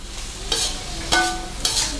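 Mussels stir-fried in a wok with red curry paste, blanched long beans and kaffir lime leaves, a continuous sizzle broken by three sharp scraping strokes of the spatula at a steady rhythm.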